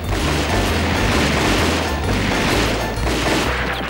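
Rapid gunfire bursts from a submachine gun in an animated gangster cartoon set in Chicago, loud and continuous for the whole stretch, with booming impacts and mechanical clatter and no voices over it.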